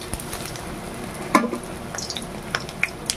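A lentil fritter fries in oil in a pan, making a soft, steady sizzle with a sharp clink of a utensil and a few small pops and ticks; the sound is fairly quiet and there is no talk.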